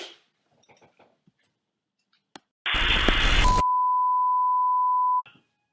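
A phone being hung up at a comedy impressions evening, followed by a loud burst of noise and then a single steady electronic tone holding for about two seconds before cutting off, with no talk over it.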